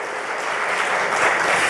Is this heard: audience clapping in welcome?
yes